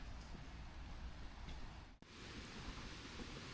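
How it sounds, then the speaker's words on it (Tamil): A distant waterfall in South Korea sends a steady, faint rushing hiss of water through the air, continuous and broadband with one brief dip, no voices present. "எங்கேயோ சத்தம் கேக்குது, நல்லா தண்ணி சத்தம். அந்த வாட்டர் ஃபாலோட ரிசல்ட் தான் இது."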